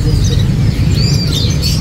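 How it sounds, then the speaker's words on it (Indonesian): Canaries at a bird market chirp with short high tweets over a loud, low rumbling background of crowd and market noise. "Dari burung kenari."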